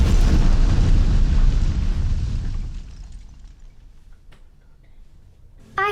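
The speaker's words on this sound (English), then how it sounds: "And then just kind of like edit in a explosion." A single loud boom-like blast opens and rumbles for a couple of seconds, then decays into a fading tail before a brief sharp sound at the very end; an explosion sound effect cut into a comedy bit.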